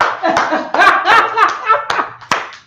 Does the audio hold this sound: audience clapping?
yes